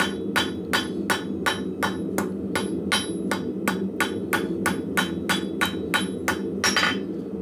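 Blacksmith hammering hot, thin steel stock to a taper and knocking off the corners, a steady rapid series of about twenty sharp ringing hammer blows, close and loud over a low forge rumble.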